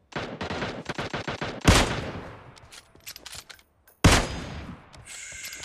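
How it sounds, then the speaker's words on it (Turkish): Gunfire in the mobile shooter PUBG Mobile: a quick string of rapid shots, then two loud sharp blasts with ringing tails separated by quieter shots, heard close with no talk over it. "Yavaş yavaş sık."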